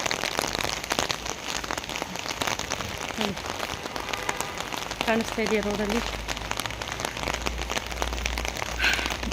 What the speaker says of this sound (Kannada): ಆಮೇಲೆ ಮಳೆ ಜಾಸ್ತಿ ಆಗೋಯ್ತು